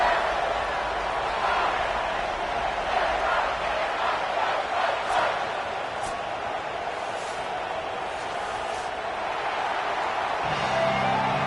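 Stadium crowd ambience in an NCAA college football video game, a steady wide roar of spectators held at an even level throughout, with faint cheers rising now and then behind a broadcast-style announcer.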